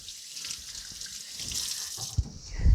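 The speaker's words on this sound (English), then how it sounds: "Give my hands a rinse." Water runs steadily from a kitchen tap while hands are rinsed, a close hissing stream that thickens with a few splashes and clunks near the end.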